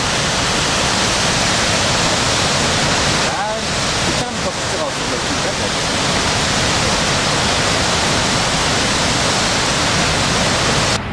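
A waterfall roars loudly and steadily, a dense rushing hiss of falling water close by, broken briefly by a couple of muffled bumps.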